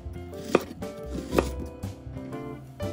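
An onion cut into wedges with a knife on a board: two distinct firm chops spaced about a second apart, each followed by quieter handling of the pieces, close and clear with no voices.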